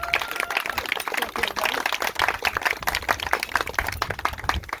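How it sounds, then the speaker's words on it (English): Applause at a closing court ceremony, many people clapping steadily and densely throughout, loud and sustained with no voices over it. "I'd like to get a round of applause for everybody who stepped out"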